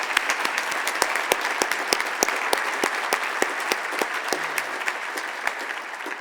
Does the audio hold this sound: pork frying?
no